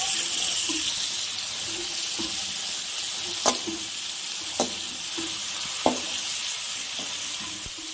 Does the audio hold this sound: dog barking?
no